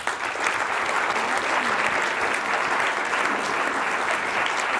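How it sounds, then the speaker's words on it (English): At a business innovation network event, a large audience gives dense, sustained applause for a student leadership team, loud and even from start to finish. "Let's give them a round of applause."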